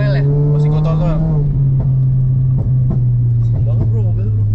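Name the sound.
modified Toyota Yaris car engine revving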